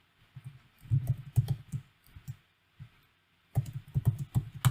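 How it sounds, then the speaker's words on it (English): Rapid bursts of key clicks on a computer keyboard while entering commands to check a Wi-Fi network for an attack, in uneven clusters with a pause in the middle, close and fairly quiet. "I'm going to type AP"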